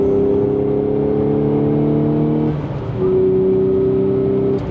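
A manual 2016 Audi S5 with a Stage 3 clutch pulls hard under heavy throttle, its steady engine drone climbing, dipping briefly during a gear change around two and a half seconds, then pulling on again, heard from inside the car.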